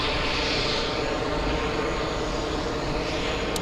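Airplane taking off at JFK airport, a steady, loud roar of jet engines filling the air continuously with no gaps and no talk.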